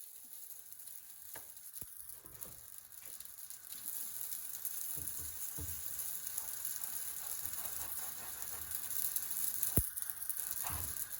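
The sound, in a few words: batbout dough sizzling in a hot oiled frying pan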